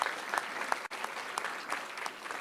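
A school board meeting audience gives a round of applause after a student's livestock sale announcement, a moderately distant, steady patter of many hands with scattered sharper claps and a brief dropout near the middle.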